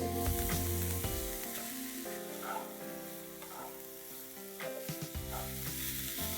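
Finely chopped paneer, 200 grams, fries in a pan for a paneer chilli starter, a steady sizzle running under prominent background music, with a few soft stirring knocks.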